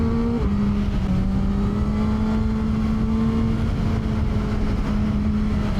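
A QJ Motor SRK 921 mid-size four-cylinder motorcycle engine drones steadily and loud, its pitch climbing slowly as it accelerates, with a brief gear change near the start.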